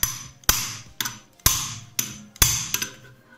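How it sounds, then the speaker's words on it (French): Hammer strikes an adjustable wrench to loosen the clutch nut on a Gilera GP 800 / Aprilia SRV 850 scooter, making sharp metallic blows about every half second, each followed by a fading ring, loud and close. "on va pouvoir taper sur la clé pour desserrer d'un quart de tour l'écrou"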